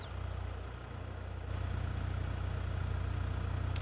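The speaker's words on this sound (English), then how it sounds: "Start engine." A tractor engine in a farming video game starts and settles into a steady low idle, a continuous mid-level rumble with a slight rise in volume partway through.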